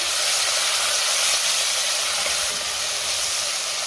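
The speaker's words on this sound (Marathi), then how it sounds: "आता त्यातच मी टोमॅटो घालते आणि टोमॅटो आपण 2 मिनिटं चांगला परतून घेऊया" Tomatoes sautéing in a hot pan with ginger and garlic for dal khichdi, a steady close sizzle and hiss that holds evenly with no talk.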